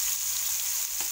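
Onion paste goes into hot oil for a bottle gourd kofta curry, giving a brief, loud, steady sizzle close up.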